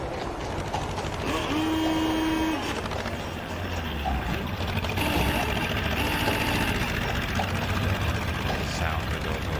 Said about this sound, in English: Sound of those old cars.